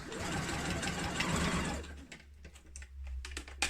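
Sewing machine topstitching along the edge of a cushion cover: a steady, dense whirring run that stops partway through, followed by scattered quieter clicks and handling taps, close up with no talking.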